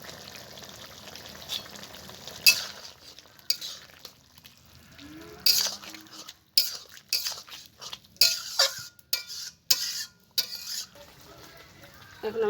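Fried prawns go into a pan with ridge gourd in a home kitchen, a faint frying hiss under repeated sharp scrapes and clinks of a spatula stirring, irregular and close.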